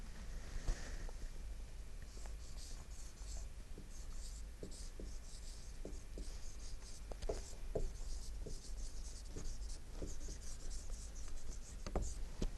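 Pen or pencil scratching across paper during a Hindi lesson on writing the past tense, a steady stream of strokes and taps running throughout, close and moderately quiet over faint room hum.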